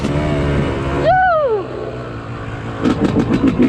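Motorcycles race on a dirt track at a spring motocross event, one bike sweeping past with a rising then falling engine whine, followed by further engines revving in rhythmic bursts, steady and fairly close.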